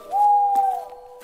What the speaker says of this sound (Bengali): শিয়ালা রাত পাখির আওয়াজ ভেসে আসছে